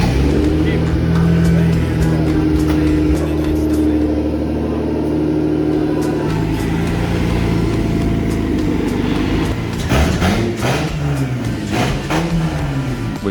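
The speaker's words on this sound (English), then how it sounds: "We managed to fire up the Scout for the first time." An International Scout engine fires up for the first time, settling into a loud, steady running rumble close by. Revving swells come through toward the end, with voices heard partly under the noise.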